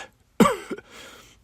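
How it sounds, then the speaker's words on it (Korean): An elderly man gives one sharp, close cough followed by a short raspy throat-clearing tail in an otherwise quiet room, with no talk. "장인어르신은 말씀을 하시면서도 계속 기침을 하셨습니다."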